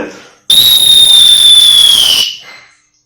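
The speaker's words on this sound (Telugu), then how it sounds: "సో లాంగ్ విజిల్ వేస్తాం, గుర్తుపెట్టుకోండి." A sports whistle blown in one long, loud, steady blast of just under two seconds, used to give a physical education assembly signal. It stands alone with no talk over it, then cuts off into silence.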